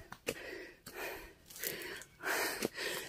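Heavy, rapid panting from a hiker climbing a big rock on a trail in Iloilo province, with breathy gasps and sharp inhales in close, uneven bursts.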